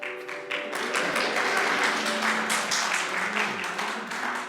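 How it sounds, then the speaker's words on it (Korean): A church congregation at a Sunday service applauds together, a dense, sustained wash of clapping that holds steady for several seconds. "우리 박수로 하나 할까요?"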